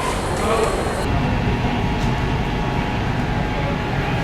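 Steady low rumble and rattling of a moving train carriage travelling from Dadar to Neral, continuous and fairly loud throughout, with a faint hiss at the start.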